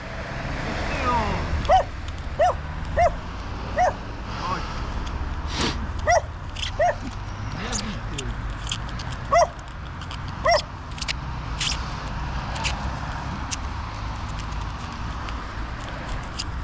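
A dog whimpers and yips in short, repeated high cries outdoors in cold, wet weather by a roadside ditch at night, guarding a man who has fallen there, under another man's soft, soothing talk and a low background rumble.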